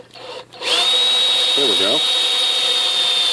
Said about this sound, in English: Let's see if I can drill this hole and stay on center now.